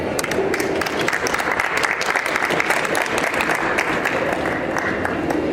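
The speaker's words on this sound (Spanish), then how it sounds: "Por favor, recibámoslas con un fuerte aplauso." A seated audience welcomes a speaker at a medical talk on breaking bad news in the emergency room. Loud, brisk applause is made up of many close, distinct claps and keeps a steady level for several seconds.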